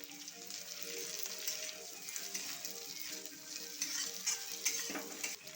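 Chopped potatoes and two green chillies fry with garlic in a pan, a quiet continuous sizzle with scraping stirs that grow busier and more clattery toward the end.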